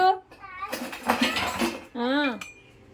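Spoons and dishes clink and clatter as they are put away, the metallic knocks mixed in with a child and an adult talking close by.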